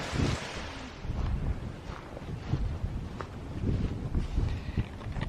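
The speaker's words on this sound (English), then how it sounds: "It's a bit blowy." Gusty wind on an outdoor countryside walk buffets the microphone with a continuous low rumble and uneven surges, close and fairly loud, with no talking.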